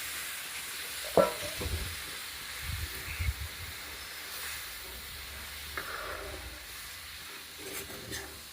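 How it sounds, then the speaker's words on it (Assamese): Dal tarka tempering sizzles in a home kitchen pan, a steady soft frying hiss with a few sharper crackles and stirring clatters, fairly quiet and with no voices. "বইল কৰি লৈ এইফালে এতিয়া দাইল তৰকা মাৰি"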